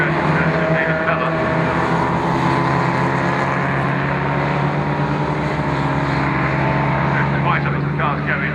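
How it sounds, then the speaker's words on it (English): MG race cars lap Croft circuit, their engines forming a loud continuous droning roar heard from trackside, with a commentator talking over the noise throughout. "Right up as the cars go into Tower in 4th and 5th places"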